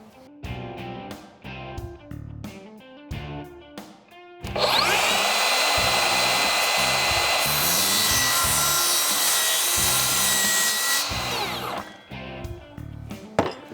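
A power saw cuts a wooden top piece for a climbing planter box, with a sustained loud whining cut lasting several seconds, framed by scraping, knocking and handling of the wood before and after.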